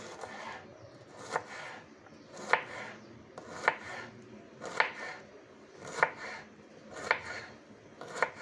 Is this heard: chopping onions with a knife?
yes